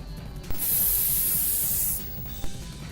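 A steady water spray hisses loudly for about a second and a half amid a busy fighting-game soundtrack in a Mega Man vs Robotboy fan matchup, starting and stopping abruptly.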